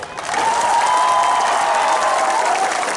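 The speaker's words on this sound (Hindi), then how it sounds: "हंसो के लिए भी ताली मारो" A crowd at a BJP political gathering in Tripura claps together, a loud, steady wash of applause with a faint tonal hum or voice running underneath throughout.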